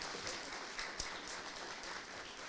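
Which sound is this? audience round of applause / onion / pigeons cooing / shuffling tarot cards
audience round of applause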